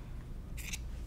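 Scissors snip quilt fabric once, a quick crisp cut that is faint and close against a quiet room.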